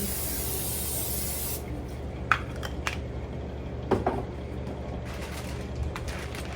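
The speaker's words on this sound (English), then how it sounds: "Got my pan. And spray my pan." A short hiss of cooking spray onto a pan, followed by a few light metallic clinks and taps in an otherwise quiet kitchen.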